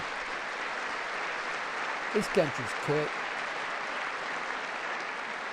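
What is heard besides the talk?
audience clapping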